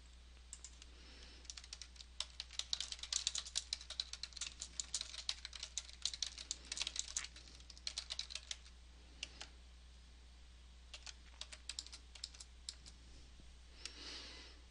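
Bursts of rapid keystrokes on a computer keyboard during bank account reconciliation, with clicks coming in quick runs and short pauses, close and faint over a steady low hum.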